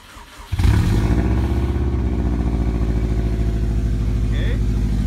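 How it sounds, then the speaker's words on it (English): A Subaru car engine cold-starts with a quick crank, then settles into a loud, steady, deep rumbling idle close by, with people talking briefly over it. "He's about to give us a cold start."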